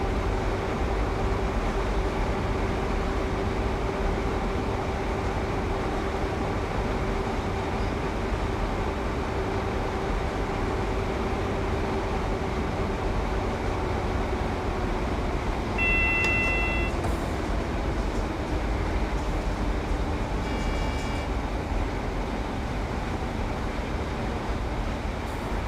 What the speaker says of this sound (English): I've now got the brakes on for the upcoming 40 mile per hour speed restriction